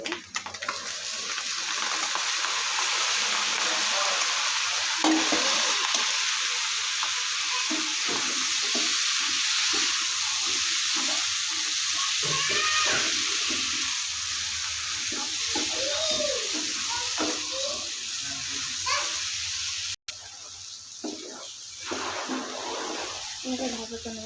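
Shredded cabbage fries with egg in a pan, giving a continuous close sizzle and hiss with stirring scrapes, while a voice talks intermittently over it.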